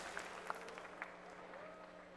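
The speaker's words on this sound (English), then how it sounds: "The crowd is cheering, and that means Nal-Ra is good to go." Spectators at a BlizzCon StarCraft match cheer and clap, a quiet, distant crowd roar with a few sharper claps standing out near the start, heard faintly through the hall.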